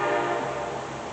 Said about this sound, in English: I think that was a train.